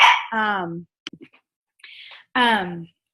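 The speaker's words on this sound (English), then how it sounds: "I got a little sidetracked with a dog barking" A dog barks twice indoors, the two loud, close barks separated by a pause filled with faint clicks and small noises.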